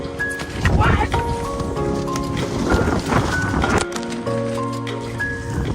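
Rain and gusting wind in a storm, heard as steady loud noise throughout while people talk over it.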